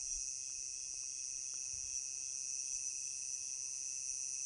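Crickets chirp in a steady, continuous high-pitched trill that holds unbroken throughout, with faint low rumbling underneath and no voices.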